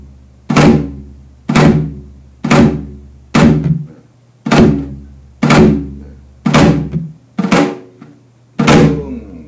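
A Korean janggu drum is struck in the jungmori rhythm, with about ten loud, close, evenly spaced hits, each with a sharp attack and a short ringing decay, played alone without talking.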